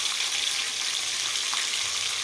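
Onions dropped into hot oil in a home kitchen, a steady bright sizzle that stays even and close throughout with no voices.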